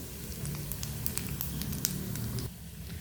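Mustard seeds, cumin and dried red chillies sputter in hot oil as tempering for a raw green tomato pickle: a quiet, dense crackle with scattered pops that thins out at the end.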